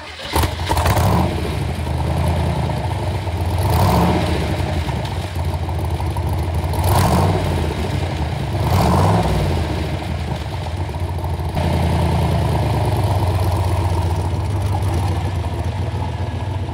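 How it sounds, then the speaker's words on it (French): A 56-year-old Corvette C2 V8 rated at 375 hp fires up and revs, rising in several loud swells over a rumbling idle, close and continuous with no talking. "Je vous fais écouter le son de ce moteur"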